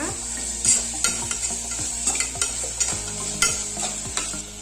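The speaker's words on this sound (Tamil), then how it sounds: "இந்த இஞ்சி பூண்டு விழுது ஆட் பண்ணக்கப்புறமா இதோட பச்சை வாசனை போற வரையும் கொஞ்சம் வதக்கி விட்டுக்கோங்க" Ginger garlic paste sautés with tomatoes in a pan for spicy mutton karichaaru, with regular spoon scrapes and taps over a soft continuous sizzle, close up.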